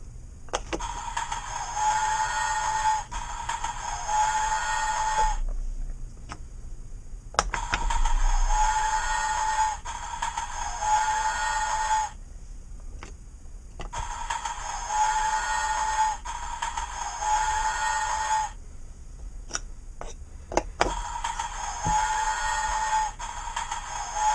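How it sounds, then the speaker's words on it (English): Train sound effects from a Melissa & Doug wooden train sound puzzle play in repeated electronic bursts, each several seconds long with tonal whistle-like and rumbling layers, separated by short clicks and pauses as pieces are lifted. "Today we're going to show you this Melissa and Doug sounds puzzle. It's the train version."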